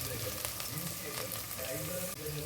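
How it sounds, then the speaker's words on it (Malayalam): Crushed garlic sautéing in a pan gives off a steady, moderately loud sizzle and crackle throughout, with faint scattered pops and no talking. "കഴുകിയ വെളുത്തുള്ളി ചതച്ചിട്ട് അതിനകത്ത് നന്നായി വഴറ്റട്ടെ"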